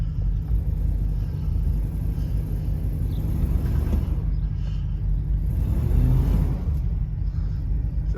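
A home-built overland RV truck in four-wheel drive creeps backwards, its engine giving a steady low rumble that swells slightly near the end, with no talking.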